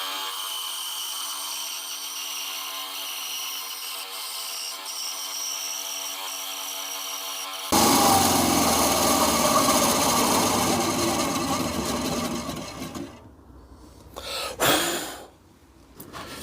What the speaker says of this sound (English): we need to make a cut halfway through our plywood bed